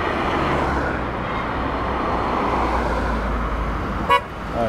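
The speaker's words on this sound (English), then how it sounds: "Dude in car is honking." Road traffic rumbles steadily, then a single short car horn toot sounds near the end, a little distant.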